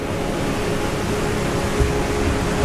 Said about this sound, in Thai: นี่ก็จะเป็นน้ำตกเล็กๆ ของน้ำตกลานสาม